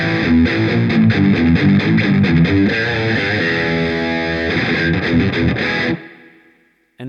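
A heavily distorted electric guitar played through a Blackstar IDX amp on its OD2 modern, chuggy overdrive channel, with reverb: rhythmic palm-muted chugs and ringing chords, loud and alone, then cut off into a brief fading tail.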